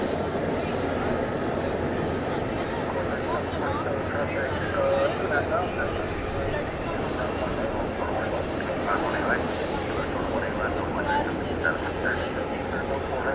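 A UPS Airbus A300 freighter taxis at night at DFW Airport, a steady broadband engine roar holding at a constant level throughout, moderately near, with faint speech in the background.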